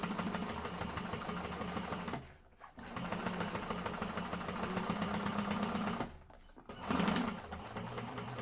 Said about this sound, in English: we are going to sew across here with a 3/8 of an inch seam allowance